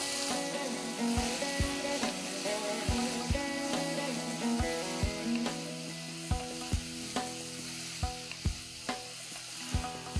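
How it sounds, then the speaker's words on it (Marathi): Potatoes sauté in oil tempered with mustard seeds and asafoetida, a continuous soft sizzle broken by regular knocks of a spatula stirring against the pan, fairly quiet and alone. "मोहरी तडतडली की आधी आपण बटाटे चांगले दोन मिनटं परतून अर्धे शिजवून घेऊया"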